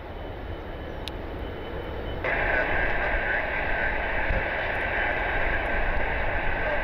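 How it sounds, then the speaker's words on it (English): A Delta Connection CRJ jet at Detroit Metro Airport produces a steady engine roar that grows louder partway through, with a sustained high whine joining in and holding to the end. "Delta connection, I think it's flight 3633. It's a CRJ heading to Charleston."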